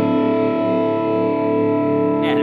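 A Suhr electric guitar played through a Quad Cortex amp modeler holds a loud, sustained distorted chord with a smooth effects-laden sheen. It rings steadily on its own for the whole moment, with no speech.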